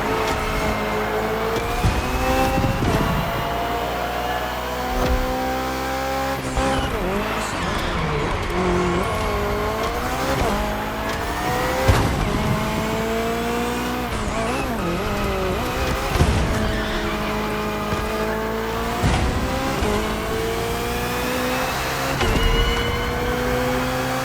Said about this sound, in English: The hybrid V8 will do the rest